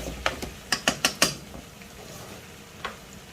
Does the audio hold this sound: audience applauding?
no